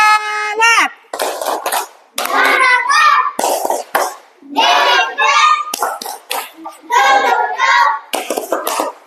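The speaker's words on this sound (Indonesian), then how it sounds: "Tepuk semangat." A class of children performs the 'tepuk semangat' clapping chant in an Indonesian classroom, with rhythmic bursts of hand claps mixed with loud chanted voices in a steady, repeating pattern over several seconds.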